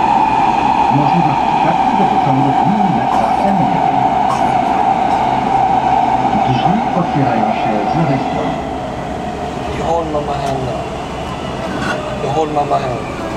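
Warsaw metro train running between stations from Centrum Nauki Kopernik toward Plac Wilsona, a steady loud rumble and whine inside the car, wheel clatter beneath, faint voices among passengers.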